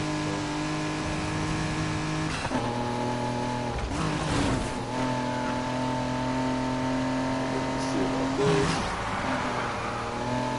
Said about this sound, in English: right there, that was a hard drift